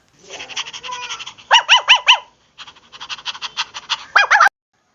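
A cartoon puppy yaps in a story, giving quick bursts of high, squeaky barks in two clusters separated by a short pause, loud and close with no talk over them.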